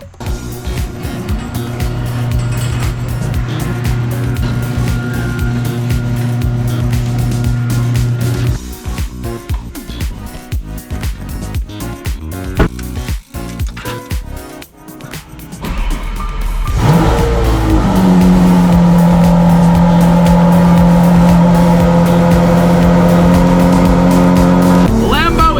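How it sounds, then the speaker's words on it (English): A 1,400 hp GTR engine revs loudly and close by, with long sustained droning tones, an uneven stretch in the middle and a louder, steadier roar toward the end, over a faint voice. "I would drive in here more often just to hear the car"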